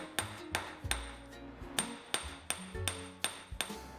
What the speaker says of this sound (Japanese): 金槌の狭い面のからかみを使い叩いて伸ばしていきます